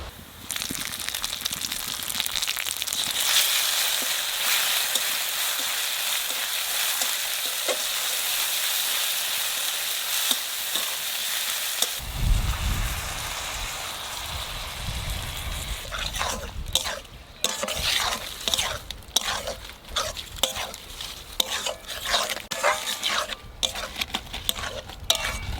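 Garlic and dried chili hiss steadily in hot oil before a shrimp and green chili paste goes in, after which the sizzle thickens and is joined by clattering stirring against the pan, with little talk.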